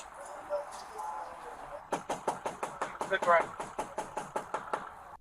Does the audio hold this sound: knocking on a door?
yes